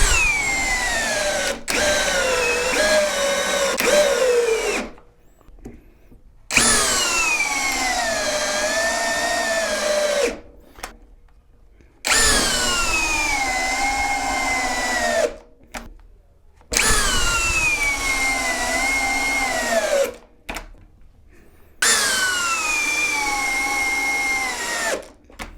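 A cordless drill whines at full speed in long, steady bursts, each run lasting several seconds and separated by brief silences.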